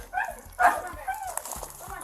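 A dog barks on a residential property, a short sharp burst near the middle amid ongoing talking voices.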